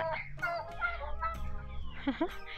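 Turkeys penned at a garden cafe farm in Silang, Cavite, gobbling and clucking in short bursts close by, with people talking quietly in the background.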